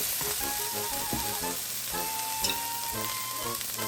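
Steady, dense sizzle of about two tablespoons of oil heating in a hot pan for a beef and string bean stir fry, continuous and close with faint clatter on top.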